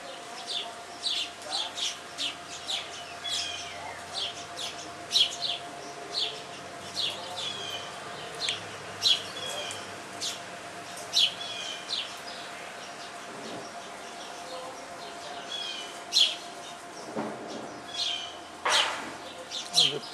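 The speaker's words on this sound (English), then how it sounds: "I don't know what kind of birds are those" Small birds chirping and tweeting at a backyard feeder, a mix of sparrows and unfamiliar species. Short, faint, scattered calls repeat throughout over a quiet outdoor background, with a couple of louder chirps near the end.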